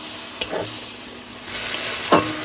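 Taro stolons and prawns are stirred in a pan, with a few sharp spoon scrapes against the metal over a soft, steady sizzle, close by, with no voices.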